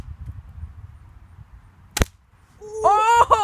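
A toy gun fires one sharp, close snap at a tablet out of a low rumbling background, followed by excited voices talking.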